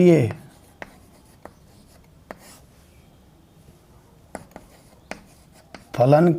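Chalk or pen writing out a maths condition on a board during a calculus lesson, heard as a few brief scratchy strokes spaced through a quiet stretch, with a voice speaking at the start and end.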